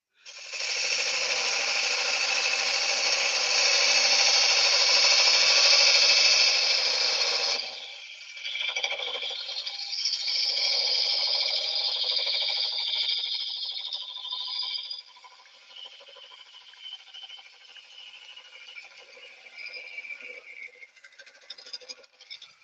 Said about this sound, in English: Right, now, seeing as how I'm hollowing this